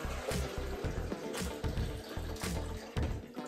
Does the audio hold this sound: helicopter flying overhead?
no